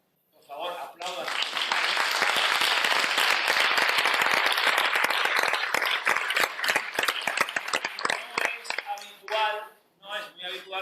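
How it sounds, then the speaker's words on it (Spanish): A theater audience applauds loudly and steadily for several seconds, the clapping thinning out toward the end. "Por favor, aplaudan."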